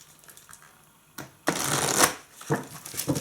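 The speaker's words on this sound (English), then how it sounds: "let's just give these a bit of a shuffle." A deck of oracle cards is riffled and shuffled up close, with bursts of crisp flapping and rattling after a brief quiet start.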